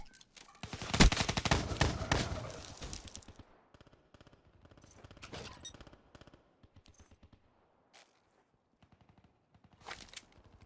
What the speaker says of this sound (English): So I hear some shooting over there